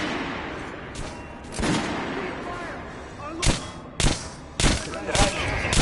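Several guns fired one after another at a shooting range in the zombie shooter Zombie Army 4, sharp loud shots at uneven spacing with a steady low background between them and no talking.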